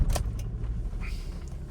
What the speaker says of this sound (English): So I'll turn the key on, lots of lights, and then we'll just fire up.